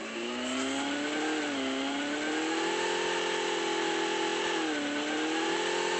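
A vehicle engine in the Call of Duty Mobile video game drones steadily, its pitch swelling and dipping as the vehicle accelerates and eases off, heard alone at a moderate level.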